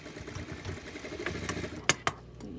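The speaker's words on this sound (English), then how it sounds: "put a shoulder to shoulder together, and let's sew that together." A sewing machine stitches the shoulder seams of a doll bodysuit in a short run of fast mechanical whirring, followed by two sharp clicks near the end.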